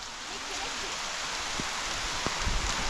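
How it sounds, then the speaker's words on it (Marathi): Rain falls on a farm field as a steady, even hiss of drops, with a few faint low thuds toward the end. "नेमकंच पाऊस आला चांगलाच पाऊस आला"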